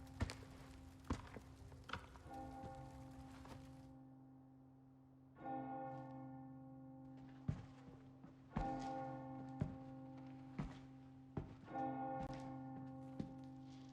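A church bell in the village of the Resident Evil 4 Remake video game tolls repeatedly at a slow, steady rhythm, with soft footsteps and thuds in between the strikes.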